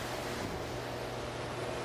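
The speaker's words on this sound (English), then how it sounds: "this is the first waterfall right here" A waterfall on a creek at Etiwanda Falls in Rancho Cucamonga gives a steady broadband rush of falling water, even and continuous with no voices.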